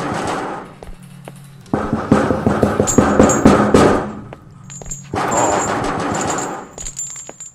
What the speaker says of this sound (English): Why all the banging?